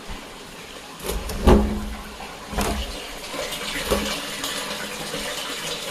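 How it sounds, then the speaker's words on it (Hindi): Water drops in uneven pieces inside a tank in a forest area, making irregular splashing and gurgling bursts over a steady wet background hiss. "ये पानी गिर रहा है, ये अजीब सी आवाज़ कर रहा था"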